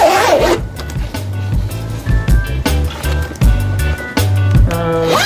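A zipper on a sewn decorative pillow is pulled back and forth in several quick, close, raspy strokes, each a burst of ratcheting teeth with brief pauses between.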